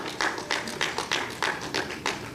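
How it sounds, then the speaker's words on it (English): Seated audience at an intellectual property day event at a university applauding students being recognised, a brief round of close clapping in irregular pulses. "let's also give them a round of applause"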